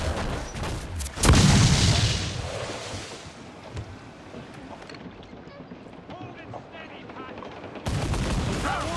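Cannon fire in an Assassin's Creed 4 Black Flag ship battle: a heavy booming volley with a long rumbling tail under shouted crew voices, followed by quieter battle noise and another burst near the end.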